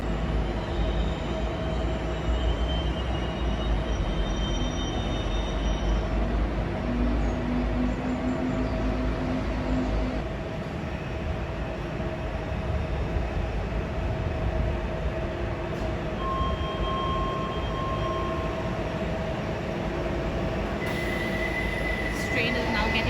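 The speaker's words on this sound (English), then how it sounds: "Train is now getting ready to depart, and the doors have closed." A Docklands Light Railway train at Stratford International station, London, hums and rumbles continuously nearby, with faint high squeals of wheels and brakes as it pulls away at a steady, moderate level.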